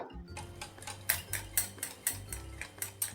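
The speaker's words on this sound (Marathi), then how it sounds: "छान अगदी हे असं फेटून घ्यायचं" A spoon or whisk beats flour batter for motichoor ladoo in a bowl, making quick, regular clicks and taps against the side at a steady rhythm. The strokes are close and crisp over a low background hum, with no voices.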